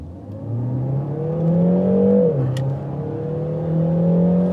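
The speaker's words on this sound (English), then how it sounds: "So here's sports mode again. maximum power, maximum acceleration." A 2021 Peugeot 3008 GT facelift plug-in hybrid, front-wheel drive, accelerating hard in sport mode: a smooth engine and motor drone climbs steadily in pitch, dips briefly as a gear changes, then rises again, heard from inside the cabin.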